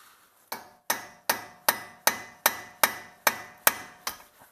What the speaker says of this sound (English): I use a brass punch with a sledgehammer,